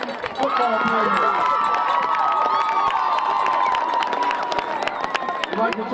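A stadium crowd at a high school varsity football game cheers and claps for senior players, loud and continuous, with shouts and a long sustained whistle-like tone riding over the noise.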